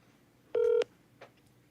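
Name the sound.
phone keypad tones while contacting someone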